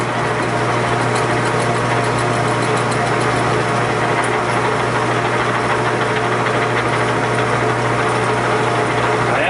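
A lathe turns the neck of a blown-out cartridge case, giving a loud, continuous mechanical hum and rattling whir that stays steady throughout with no talking.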